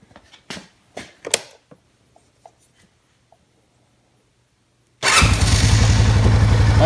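A Honda Rubicon 500 ATV, just reassembled after not running, fires up without the choke after a few faint clicks and handling sounds, then settles into a loud, steady close idle with a rhythmic low rumble.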